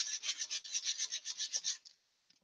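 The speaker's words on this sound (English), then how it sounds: "Everybody likes to see a bit of sanding, right?" A wooden trident carving on a woodturner's bench is hand sanded in quick, even back-and-forth strokes, about a dozen rhythmic raspy rubs close to the microphone before stopping, with a couple of faint taps after.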